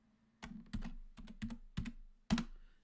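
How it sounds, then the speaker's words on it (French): Keys clack on a computer keyboard in short bursts while creating folders in Windows 11, ending with a firmer press of the Enter key, close and crisp with no voices. "Je valide toujours par la touche entrée du clavier."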